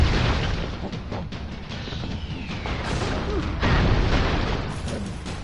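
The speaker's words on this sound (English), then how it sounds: "all these explosions" Dense, continuous blasts and crashing booms from the side-scrolling action game Broforce, layered explosions rumbling loudly for several seconds with sharp debris bursts, under faint talk.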